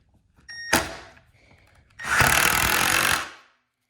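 Power driver sinking screws into softwood cabinetry during a kitchen and bath install, heard as a brief sharp burst near the start and then a louder sustained whir of about a second and a half, close and alone.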